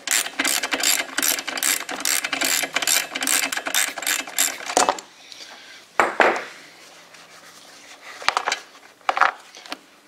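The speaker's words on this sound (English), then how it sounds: "take your 5/8 inch socket and let's start twisting out that plug there" A ratchet fitted with a 5/8 inch socket works the spark plug out of a RedMax EBZ8500 backpack blower. It starts as a rapid run of close, loud clicks, then breaks into a few scattered ratcheting bursts.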